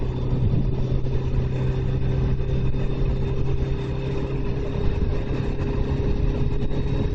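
A Suzuki GSX1400 motorcycle engine drones steadily and loudly at close range after a rough gear change, a constant mid-pitched hum with wind rush running throughout.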